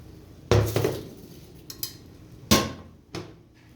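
Metal spoon scraping and clanking against a frying pan while serving an aloo anday potato-and-egg breakfast dish, two loud sharp clatters followed by smaller taps, close up with no talk.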